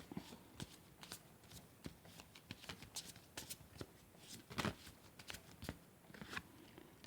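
Past life oracle cards are shuffled quietly by hand in a rapid, irregular run of soft riffling slaps and flutters, close and fairly faint, with no talking.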